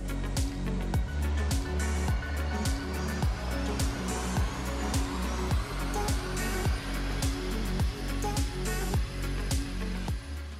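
A Mercedes E350 AMG engine runs hard on a dyno during a power run, giving a loud, sustained roar with a steady pulsing beat and broadband rush throughout. No one speaks.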